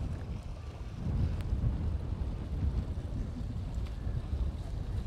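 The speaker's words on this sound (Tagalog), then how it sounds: "Lakas ng hangin." Strong wind gusts by Manila Bay buffet the microphone in a steady low roar, with a faint wash of water in the background and no voices.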